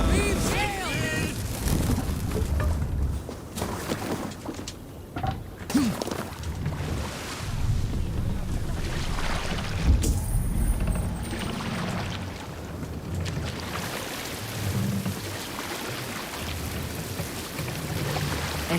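Viking longship under sail at sea in Assassin's Creed Valhalla, with steady washing water and creaking wood filling the scene, while voices call out over the continuous rush of the waves.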